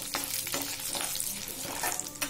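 Okra masala sizzles in a frying pan and is stirred: a steady close hiss broken by scraping strokes of the spoon. No one speaks.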